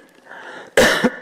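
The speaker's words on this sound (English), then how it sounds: "I turn my cough right toward the microphone" A single sharp cough close to a microphone during a church Bible lesson, a loud burst with a smaller second push at the end, heard alone.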